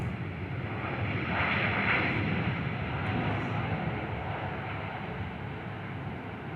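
A QantasLink Airbus A320 arrives at Perth Airport, a broad jet roar that swells in the first seconds and then holds steady, fairly near and loud, with no voices.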